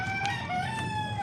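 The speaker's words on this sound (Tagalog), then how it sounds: "Mga manok pala dito." A rooster crows in a long, clear call, with some soft clucking from nearby fowl.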